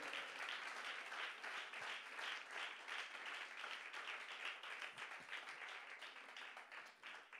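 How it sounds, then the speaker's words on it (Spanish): A church congregation applauds the Lord during a sermon, dense sustained clapping that runs continuously for several seconds with no talking over it. "Dele un aplauso al Señor."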